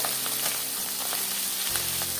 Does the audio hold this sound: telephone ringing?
no